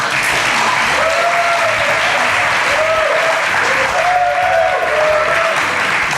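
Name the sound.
applause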